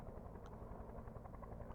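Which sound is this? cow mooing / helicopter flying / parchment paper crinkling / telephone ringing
helicopter flying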